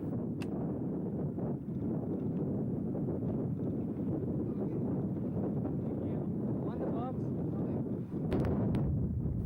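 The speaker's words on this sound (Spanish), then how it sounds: "el fuerte viento amenaza con empujar la embarcación y dejarnos encallados en la orilla" Strong wind sweeps across a lake during bass fishing from a boat, buffeting the microphone with a constant low rumbling roar while someone speaks over it.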